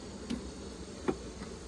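Honey bees buzzing around hive frames, a faint steady hum with a couple of brief louder passes of individual bees close by.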